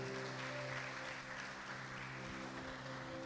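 A church congregation applauds, a dense, steady wash of clapping that sounds distant and soft, with a faint tonal hum from the hall running underneath.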